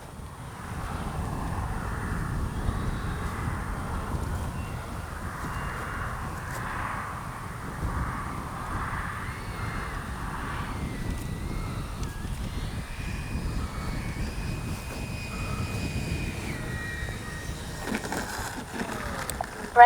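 FMS Super Scorpion V2 RC jet flying slowly with flaps in use, giving a steady, fairly distant whooshing drone that holds for the whole stretch, with a rising whine near the end.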